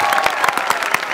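Applause from a comedy show audience during a family contest segment: a dense burst of clapping with crowd noise, loud and close, filling the whole short moment.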